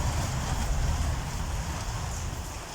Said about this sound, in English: The rain is really strong.